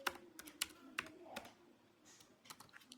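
Someone types code on a computer keyboard. Quick, irregular key clicks sound close and crisp, with short pauses between bursts, in an otherwise quiet room.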